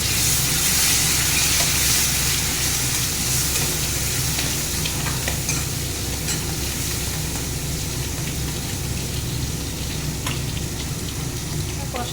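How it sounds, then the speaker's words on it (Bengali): Spices with a little water sauté in a pan for a fish-head dish, a steady dense sizzle with scraping stir strokes running throughout, close and fairly loud with no voices. "আর একটু জল দিয়ে ভালো করে মশলাটাকে কষিয়ে নেব"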